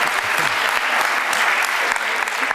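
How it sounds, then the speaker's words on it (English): An audience at a talk on Bitcoin claps in a short, steady burst of applause that fills the room from start to finish. "let's give her a little round of applause"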